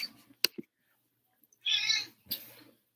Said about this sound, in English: Other cat came in. She got jealous.